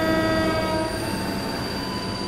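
Commuter line train with a TM 6000 set departing in a train simulation game, a loud sustained blast of the horn with steady tones over dense rail rumble, heard alone.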